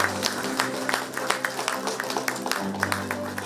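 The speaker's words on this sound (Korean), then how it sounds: "큰 박수 부탁드립니다." An audience at a community meeting with the mayor claps steadily through a flower bouquet presentation, a moderate, even patter of applause under a low hum of the room.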